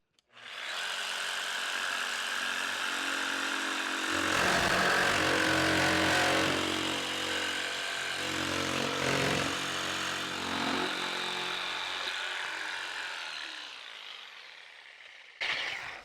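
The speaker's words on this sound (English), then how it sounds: "Have the upcut blade in the jigsaw." Jigsaw with an upcut blade cutting wood, a loud, continuous buzzing motor whine that swells and wavers through the cut, then stops abruptly with a short clatter.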